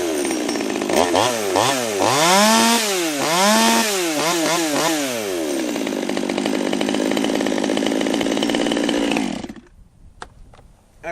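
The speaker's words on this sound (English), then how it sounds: "Excellent running saw." Stihl or Husqvarna top handle chainsaw running loud and close, the engine revving up and down several times before settling into a steady idle, then cutting off abruptly.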